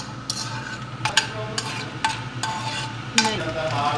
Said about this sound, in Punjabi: ਘੇ ਪਾ ਕੇ ਤੇ ਆਪਾਂ ਆਪਣੇ ਡਰਾਈ ਫਰੂਟਸ ਨੂੰ ਰੋਸਟ ਕਰਾਂਗੇ